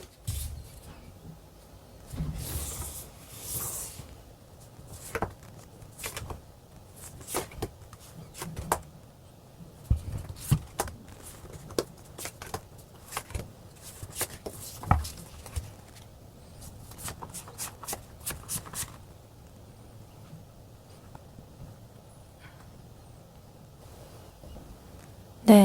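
Tarot cards are shuffled in soft bursts of riffling and sliding, close and fairly quiet, with short pauses between runs and a sharper tap at the end.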